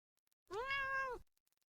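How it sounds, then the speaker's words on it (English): A single cat in Dwarf Fortress gives one clear, sustained meow lasting under a second, close and isolated against silence. "16 cats give birth."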